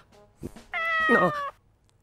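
A cat meows once in the horror video game Corpse Party, a clear, drawn-out cry lasting under a second after a soft lead-in sound, with no speech.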